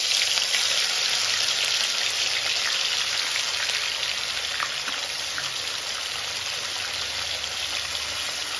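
Raw fish laid into hot oil with dried chilli and a bay leaf, giving a loud, steady, dense sizzle that holds evenly throughout with no voices.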